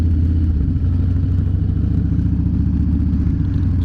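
Motorcycle engine idling steadily up close, an older bike with the rake lever down, giving a continuous low rumbling drone with light mechanical clatter and no talk.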